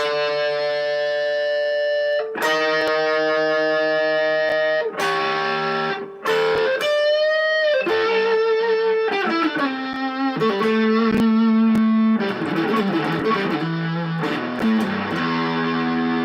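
An electric guitar, a PRS Custom 24, through a Dirty Deed overdrive pedal with heavy drive plays sustained chords and bending notes, gritty and loud, continuous without any talking.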